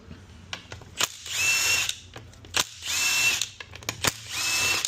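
A power tool spins out 10 millimeter bolts from a Corvette 4L60E automatic transmission that lost third gear, three loud whirring bursts with ratcheting clicks between them, close up with no talking.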